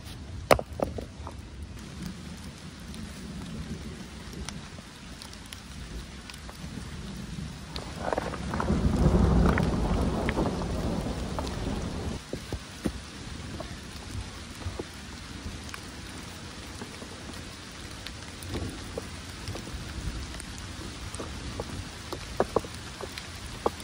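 Heavy rain pours steadily close by, and a deep rolling rumble of thunder swells in the middle before the downpour carries on alone.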